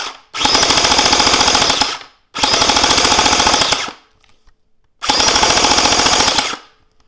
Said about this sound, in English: We're gonna shoot it a little bit and test the FPS on it.